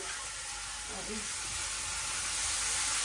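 Vegetables seasoned with turmeric and salt sizzle steadily as they sauté in a pan, a soft continuous hiss that holds even and grows slightly louder toward the end, with no talking.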